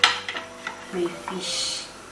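A spoon stirs okro soup in a cooking pot, giving a few soft scraping and knocking strokes against the pot, close and fairly quiet, with a light hiss toward the end.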